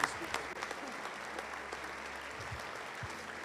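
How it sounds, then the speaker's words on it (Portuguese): A church congregation applauds steadily, a dense, even patter of many hands clapping at moderate volume from start to finish. "aplauda o Senhor pela vida dos irmãos aqui"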